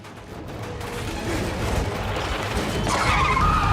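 A car smashes through a guardrail and skids down an embankment, a loud, sustained rumble of tires and impact noise that builds steadily, with a harsh scraping screech rising near the end.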